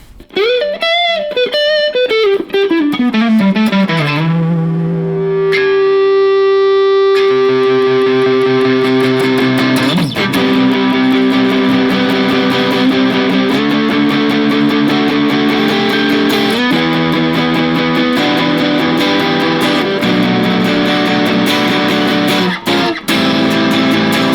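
Loud, fully overdriven Enya Inspire electric guitar playing continuously, with sustained distorted chords and notes ringing out, no voices.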